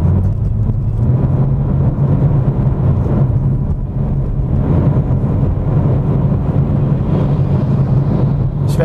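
A BMW M4 Competition G82 cruising in fifth gear near 3000 rpm, a steady loud low engine drone with road and wind roar inside the car, continuous and unbroken.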